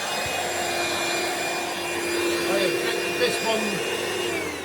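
Two Hoover Brushvac vacuum cleaners run on a test carpet, a steady loud motor whine with high tonal hum throughout, the pitch shifting slightly midway, with faint voices in the background.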